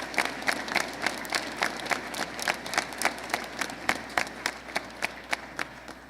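Steady applause from an audience at a high school Veterans Day assembly, honoring National Guard guests; many hands clap in a dense, even wash with regularly spaced sharper claps, moderately loud and sustained throughout.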